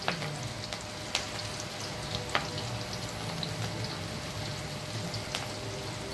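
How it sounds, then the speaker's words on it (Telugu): Onion pakoda fritters bubbling in hot oil, a steady close crackling sizzle with a few sharp clicks and taps from stirring, no talking. "ఇలా గోల్డ్ కలర్ వచ్చేదాకా గోలించుకోవాలి మరేసుకుంటూ"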